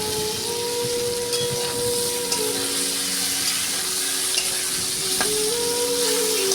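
Tindora and potato curry frying and being stirred in a pan, a continuous close sizzle with light scraping, while a faint steady tone hums in the background.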